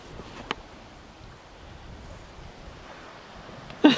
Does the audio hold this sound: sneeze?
no